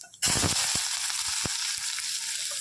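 A sudden loud sizzle of fennel seeds, spices and onions hitting hot oil, settling into steady crackling and popping with occasional sharp spits.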